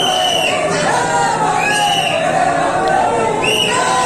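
A dense crowd of devotees packs a Shiv temple at the Sawan fair on the first Monday, producing a loud, steady babble of voices with occasional shouts rising above the din.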